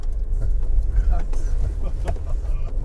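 A Mercedes-Benz G-Class crawling off-road, its engine a low, steady rumble heard from inside the cabin beneath someone speaking German.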